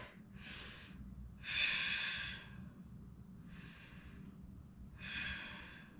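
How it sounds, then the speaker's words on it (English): Slow, deep breaths during a vinyasa yoga pose, with four long airy inhales and exhales spaced a couple of seconds apart, close and soft over a low room hum. "Take 2 breaths"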